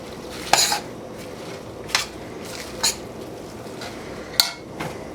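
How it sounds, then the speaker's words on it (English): A spoon stirs spinach into a pot of hot and sour ramen, with a few sharp clinks of metal against the pot spaced about a second apart over a soft, wet churning background. "And stir the rest of the spinach in."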